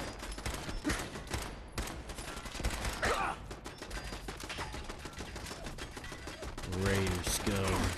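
A minigun turret in Fallout 4 fires in a dense, rapid, continuous stream of shots that lasts throughout, with a voice briefly heard near the end.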